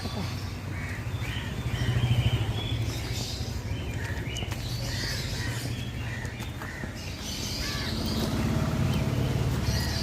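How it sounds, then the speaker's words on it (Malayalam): Birds call and chirp repeatedly in the background, with a low steady engine-like rumble and some faint voices underneath. "ഇവിടെ വീട്ടിൽ കിളികൾ ആവശ്യം പോലെ വിളിക്കുന്നു"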